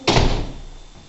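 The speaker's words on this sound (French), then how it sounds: "Tu peux fermer la porte de la cuisine?" A kitchen door swung shut with a single solid thud, a sharp close impact followed by a short fading room decay.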